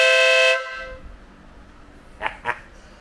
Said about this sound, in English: At the booth at Custom Dynamics, they always have to yell horn, because that's how loud it is and it scares people.